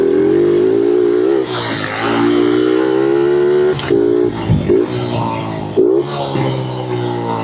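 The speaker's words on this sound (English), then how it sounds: "Oh, a little exhaust burble." A tiny 110cc four-stroke motorcycle runs close by, its engine note rising and falling through several throttle blips, with burbling exhaust pops and dips between revs, loud and alone.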